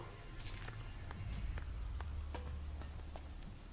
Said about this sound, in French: il y a le son de la pluie mais je pense pas qu'il pleuve